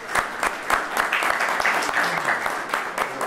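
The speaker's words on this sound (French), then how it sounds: "un applaudissement à tout le monde pour cette grande..." A crowd at a Semikha ordination ceremony bursts into hearty applause, a loud, close, continuous clatter of many hands with a slightly pulsing rhythm running through it.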